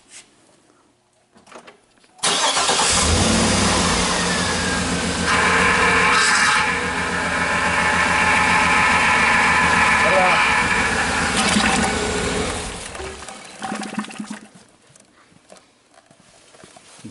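A 2012 GMC Yukon Denali engine starts up during a power steering flush and runs with a loud, steady roar for about eleven seconds, then cuts off, leaving quiet workshop noise.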